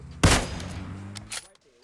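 Sniper rifle shot in PUBG Mobile: one loud, sharp report with a ringing tail, then a fainter second crack near the end.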